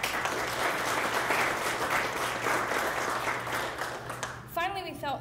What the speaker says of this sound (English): we'd like to give them a round of applause even though they're not here tonight